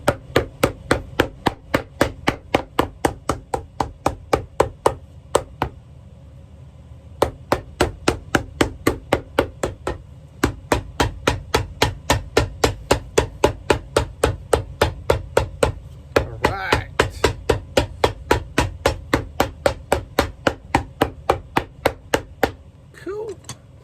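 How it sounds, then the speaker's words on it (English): A hammer taps steadily on brown suede Alden boots during customization in a workshop, dozens of sharp, even strikes in rapid bursts with short pauses between runs, close and loud. "It's hammer time."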